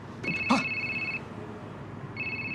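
A telephone rings in an office setting with two electronic trill bursts separated by a pause, near and clear, with a brief thump or shuffle during the first ring.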